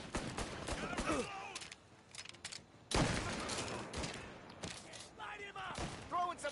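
Mafia Definitive Edition gameplay gunfire rattles in rapid volleys and single cracks, with thuds and impacts, while voices call out and talk over the shooting.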